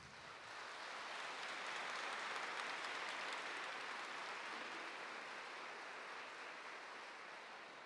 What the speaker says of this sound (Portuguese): Obrigado por isso. Por aplaudir.